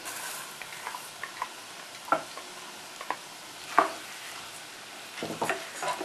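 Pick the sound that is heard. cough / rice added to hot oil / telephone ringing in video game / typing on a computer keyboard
rice added to hot oil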